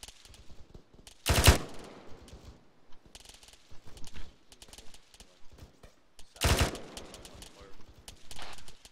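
Two short, loud bursts of automatic gunfire in a military video game, set during a tree-line firefight, stand out about five seconds apart above quieter background activity and faint talk.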